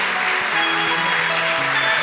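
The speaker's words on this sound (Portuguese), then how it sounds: "Vamos dar uma salva de palmas para Jesus" Congregation applauding for Jesus during a Portuguese-language church service, a steady wash of clapping with sustained musical tones underneath, fairly loud throughout.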